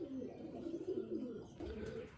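Young Malwai pigeon chicks coo in low, throaty rolling tones, a steady run of close murmuring calls lasting about two seconds with no talk.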